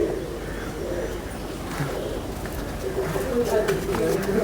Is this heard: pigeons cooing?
yes